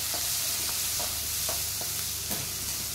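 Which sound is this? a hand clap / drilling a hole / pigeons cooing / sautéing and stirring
sautéing and stirring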